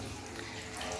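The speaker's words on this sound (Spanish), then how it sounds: "Lo que está botando el agua es lo que está dañado." Water gushes steadily from a damaged pipe at a swimming pool, a continuous rushing hiss that holds throughout, close and fairly loud, with no talk over it.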